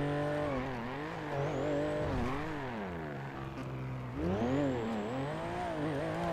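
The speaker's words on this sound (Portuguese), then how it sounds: "O ruim desse carro é que ele faz muito barulho" A noisy car races in a video game, engine revving up and down in sweeping pitch with brief tire squeals, loud and close throughout with no talk.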